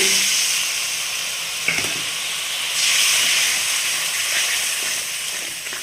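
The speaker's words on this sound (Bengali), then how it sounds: "এবার এর মধ্যে দিয়ে দেবো যেহেতু মশলাটা কষা হয়ে গেছে জল" Water poured into fried spice masala hisses and steams loudly in a pan for the whole clip, a dense, continuous sizzle with one small clatter partway through.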